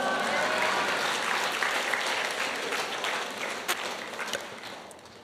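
A congregation applauds together at a family worship service, steady dense clapping from a group that holds evenly and then begins to taper toward the end.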